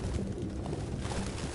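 Pigeons coo softly in the video game Detroit: Become Human, a steady low murmur of bird calls running under continuous ambient game noise with no voices.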